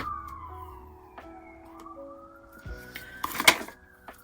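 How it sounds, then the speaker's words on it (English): Faint wailing sirens rise and fall in the distance, with a few soft clicks and a brief clatter near the end. "Sorry, sirens."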